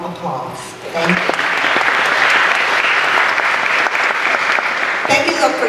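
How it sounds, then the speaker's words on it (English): A college honors symposium audience gives warm applause to welcome a speaker; a brief voice comes first, then loud, full clapping swells and holds steady before a voice returns at the end. "Please welcome her and with a warm applause."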